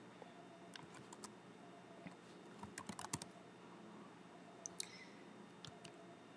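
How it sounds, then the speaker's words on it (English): Someone types quickly on a computer keyboard. The keys click in irregular bursts, close by but quiet, with short pauses between runs. "And then we can start typing in here."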